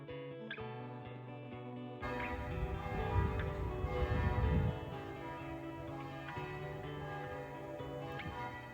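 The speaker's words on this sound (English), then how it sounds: "On hearing the church bells," Church bells ring out at St Mary's Church in Rye, a steady peal of overlapping strikes that swells loud and full after the first couple of seconds and keeps ringing without voices.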